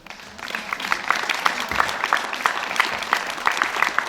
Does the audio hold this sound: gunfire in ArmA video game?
no